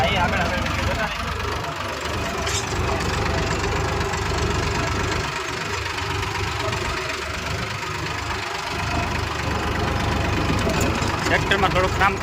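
A tractor engine running steadily, a continuous mid-pitched knocking chug at moderate distance, with a voice talking over it for much of the time.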